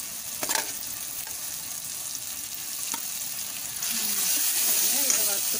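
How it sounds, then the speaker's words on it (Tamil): Prawns are tipped into a hot pan with a scraping clatter, then fry with a steady sizzle that grows louder and fuller toward the end. "இப்போ ரால் சேர்த்துடலாங்க."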